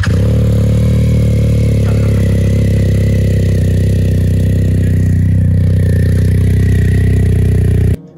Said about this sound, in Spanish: pudimos poner las pinzas, la moto la arrancamos.